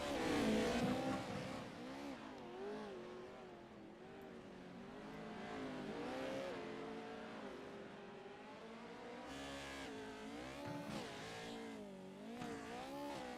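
Racing trucks on a motorsport track roar past with loud revving engines, pitch rising and falling through gear changes in one continuous, close, powerful drone.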